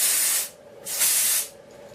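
Root touch-up hair color spray fires in two short, close, hissing bursts separated by a brief pause.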